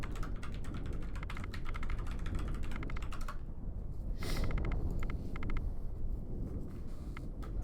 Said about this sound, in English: It's great that we can hear Ivy's furious typing.